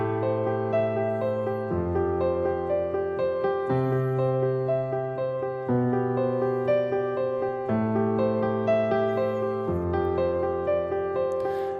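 A piano plays slow, sustained chords that change about every two seconds, with left-hand octaves adding a full low end and the pedal letting each chord ring into the next. It is moderately loud and alone, with no talking.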